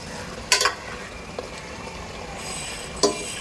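Hot water poured into a pan of mutton and spices hisses and sizzles steadily, with a few sharp metallic clinks of a utensil against the pot.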